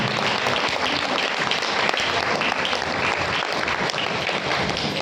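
A gathered audience applauds at a tilak honouring ceremony, a loud continuous wash of clapping that holds steady throughout.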